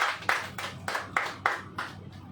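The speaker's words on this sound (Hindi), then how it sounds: "ताली कसके बजाइए" An audience at a Sabbath sermon claps in steady, evenly spaced bursts, about seven sharp claps in a row, fairly loud and close, with no voices over them.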